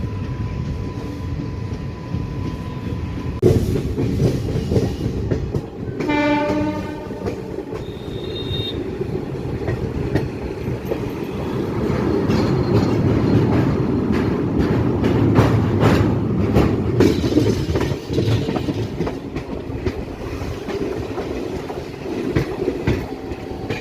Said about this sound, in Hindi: हमारी ट्रेन 28 किलोमीटर की दूरी तय करते हुए देवबंद जंक्शन पर जाकर सहारनपुर मेरठ दिल्ली लाइन पर स्विच कर जाएगी